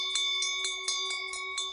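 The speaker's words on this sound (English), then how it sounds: "A bell rings." A small bell rings in an audio drama sound effect, a rapid string of light metallic strikes over a sustained ringing tone, close and fairly clear.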